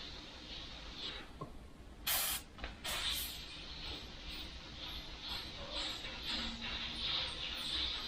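A Richpen airbrush spraying with its pressure turned right down, a soft continuous hiss of air with a couple of brief louder bursts near the start.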